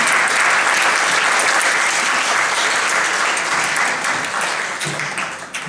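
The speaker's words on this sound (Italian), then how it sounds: "Un applauso signori." Loud, full applause at an evening awards ceremony, a dense, sustained roar of many clapping hands that holds steady, then gradually thins and fades toward the end.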